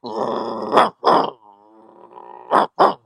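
A person imitates a big dog's bark with deep, gruff vocal barks, two close together, then a low groaning hum, then two more barks, all loud and near.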